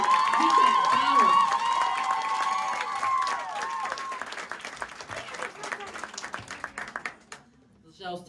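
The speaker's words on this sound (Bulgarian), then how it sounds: "Силни аплодисменти. Много силни, много силни." Strong applause from a hall audience at a 2023 Christmas show by graduating students of the Prof. Pancho Vladigerov music school, during an award presentation. Dense, sustained clapping starts under a voice, then thins into scattered claps and fades out.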